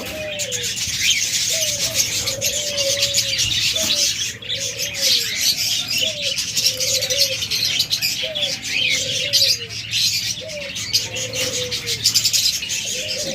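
Caged budgerigars, cockatiels and lovebirds chirp and call continuously, with repeated short whistled notes and a dense chatter of higher tweets, fairly close and lively, with no talking.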